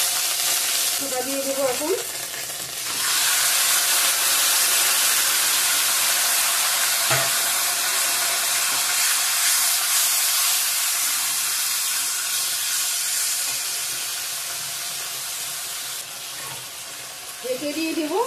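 Crushed ginger added to hot oil tempering for a Bengali dish bursts into a loud, steady close sizzle and hiss that slowly fades, with brief stirring and a voice talking at the start.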